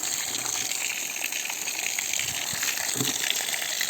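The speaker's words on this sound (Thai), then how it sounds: "น้ำพุ่งออกแรงดีเห็นไหม" Water gushing hard from a newly fitted 4-inch submersible borewell pump, a steady loud rushing flow without talk.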